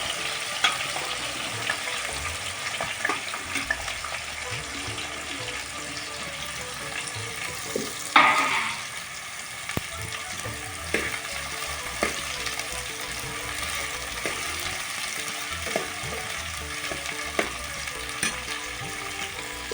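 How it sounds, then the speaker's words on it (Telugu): Cut bitter gourd frying in hot oil in a pan, giving a steady, dense sizzle throughout, with scattered ticks and one louder clatter of the pan or spoon partway through, close up and without speech. "నూనె కాగిన తర్వాత మనం కట్ చేసి పెట్టుకున్న కాకరకాయలు వేసేసుకోండి."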